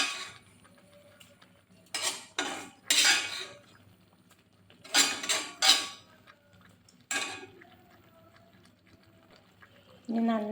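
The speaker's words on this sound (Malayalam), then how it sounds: "വറുത്തത് ഇതിലേക്ക് കോരി മാറ്റാം" A metal spoon scoops fried coconut mixture into a pot of kootu curry, giving several sharp clinks and scrapes against the vessel in bursts, separated by quiet pauses.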